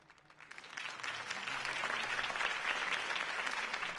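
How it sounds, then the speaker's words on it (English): Crowd applause after a city campaign speech swells from quieter scattered claps into a full, steady roar of many hands, heard at a moderate distance with no talking over it. "could have heard that applause"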